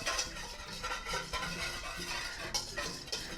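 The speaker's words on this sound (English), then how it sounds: "My whisk, and we're just going to start whisking." A whisk scraping steadily around a bowl, working a thick Caesar salad dressing paste, making quick rhythmic metallic swishes and clicks, close and fairly quiet.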